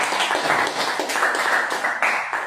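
Hands clapping along during a Chanukkah celebration, a dense, steady patter of many palms at close range with no talking over it.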